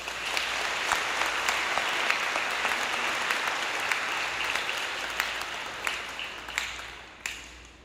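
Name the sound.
audience applause at a graduation ceremony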